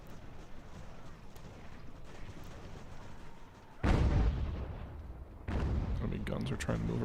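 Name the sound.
artillery fire in video game Ultimate General: American Revolution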